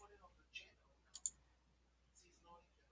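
A computer mouse clicks faintly a few times, a quick double click in the middle and softer single clicks around it, while fonts are being changed in a Google Docs document, with faint background murmur.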